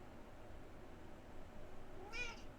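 A cat gives a single short meow near the end, faint against quiet room background, with no other sounds of note.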